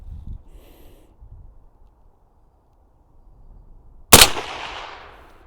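A single loud subsonic 300 Blackout round fired from a Perun X16 rifle, a sharp close crack followed by a short decaying tail after a stretch of quiet outdoor background.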